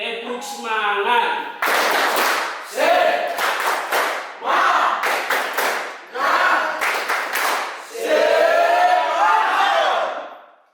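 Students in a university classroom repeat the 'tepuk semangat' clapping routine, with sharp bursts of group clapping in a set rhythm mixed with shouted chanting, loud and close, ending in a long sustained group shout.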